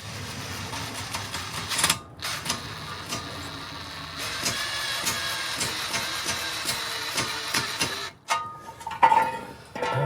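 A drill with a too-small Phillips bit whirs in several bursts while driving a screw in a garage, with pauses between the runs and a few clicks and clunks at the end.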